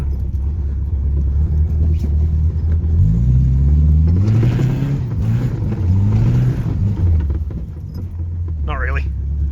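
A Toyota Corolla engine with an open differential revs up and falls back while trying to spin its wheels, a loud rumbling drone that climbs and dips, with keys jangling and a person talking.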